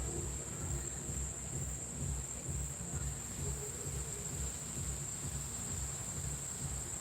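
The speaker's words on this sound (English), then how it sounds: "Could be the cicadas, maybe." Steady, high-pitched insect drone of cicadas that holds constant throughout, with a low rumble of background noise underneath and no talking.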